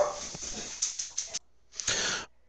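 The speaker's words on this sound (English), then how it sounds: "my dog started barking" A dog at home barks and whimpers in a few short, sharp bursts, followed by a louder longer yelp and then quiet.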